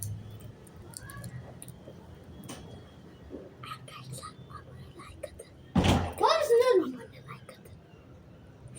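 A house door is shut with one sharp, close thud, followed by a brief scrape and rattle, set against quiet room noise with soft voices talking nearby.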